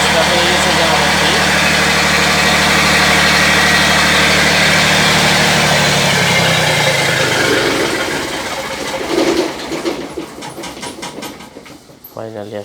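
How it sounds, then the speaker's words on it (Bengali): A generator engine runs with a steady, loud droning hum that later thins and wavers, with a voice breaking in toward the end. "ফাইনালি স্টার্ট হয়ে গেছে জেনারেটরটি।"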